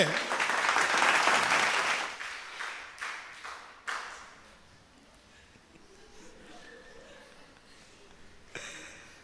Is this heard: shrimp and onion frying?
no